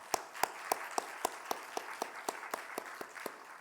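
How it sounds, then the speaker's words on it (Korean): A church congregation claps in thanks, a steady train of about fourteen sharp, evenly paced claps over a soft room wash, fairly faint. "우리 중보기도 팀으로 섬기게 되신 분들을 위해서 우리 감사의 박수 한번 드리겠습니다"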